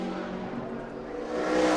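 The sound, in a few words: NASCAR race car on a qualifying lap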